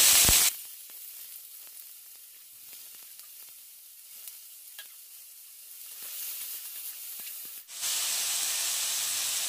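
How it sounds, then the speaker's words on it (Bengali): Cut potato pieces and whole cumin seeds frying in hot oil in a pan, a quiet steady sizzle with faint crackles, opening and ending with brief louder bursts of hiss. "এবার আলুটাকে অল্প ভাজা ভাজা করে নেব"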